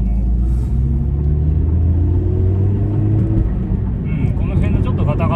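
A steady low rumble of road and engine noise fills the cabin of a 2004 Honda Integra Type R with a Mugen muffler, driving over a bumpy, uneven road, with a voice talking over it throughout.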